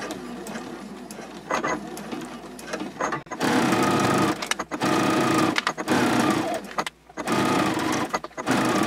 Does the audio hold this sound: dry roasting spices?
no